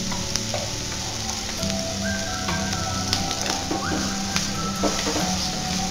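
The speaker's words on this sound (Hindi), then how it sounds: "तो अब इसमें हम डाल देंगे बिल्कुल बारीक बारीक चॉप किए हमने चॉपर में प्याज।" Finely chopped onions fry in hot oil with cumin and asafoetida for a dhaba-style masala bhindi curry, giving a continuous close sizzle with scattered crackles and light stirring scrapes.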